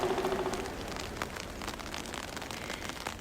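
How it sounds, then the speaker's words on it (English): Steady rain falls through the night on Strupp Lake, a dense, continuous patter of drops hitting water and surrounding surfaces, fairly close and even in loudness throughout, with no voices. "It rains all night at Strupp Lake"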